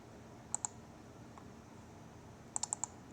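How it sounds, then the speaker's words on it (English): Faint, crisp computer mouse clicks come in quick pairs, one double-click early and two more double-clicks close together later, over a quiet room hum. "I'm just double clicking on those anchor points to make those edits"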